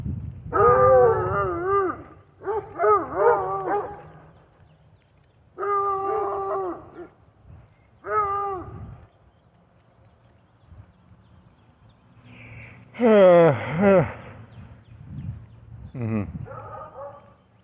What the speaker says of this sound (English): 3 dogs.